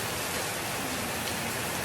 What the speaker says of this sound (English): Rainy season in Zanzibar.